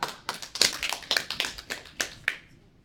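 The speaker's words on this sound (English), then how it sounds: "applaud Elisa." Classmates applaud Elisa with a handful of sharp, separate claps from a few pairs of hands, uneven in timing and tapering off after about two seconds.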